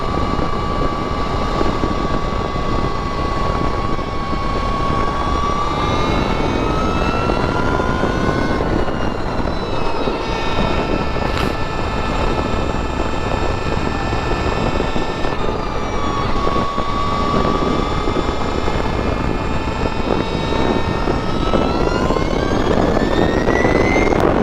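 A 2022 Energica Ribelle RS electric motorcycle is ridden under throttle. Its electric motor gives a rising and falling whine over loud, constant wind rush.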